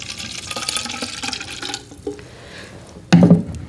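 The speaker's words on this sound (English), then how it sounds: "I'm gonna pour it in, a little bit in another bottle." Water pours from one plastic bottle into another, a close splashing trickle with gurgles that fades, followed by a brief louder thump near the end.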